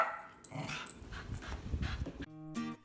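A couple of pet dogs give short barks and yips in a quick, uneven burst, fairly close, followed by a brief tonal sound at the end, with no talk.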